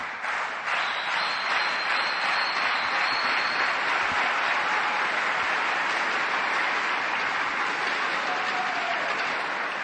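Home crowd in Lisbon, Portugal cheering at a table tennis World Tour Grand Finals match, thunder sticks and hands clapping in a loud, continuous roar that fills the arena for the whole stretch, with no commentary over it.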